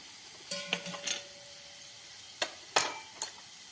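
Cumin seeds dropping into a pan of fried garlic, giving brief sizzles with metallic clinks of a spoon against the pan, a few sharp close taps scattered over a quiet background.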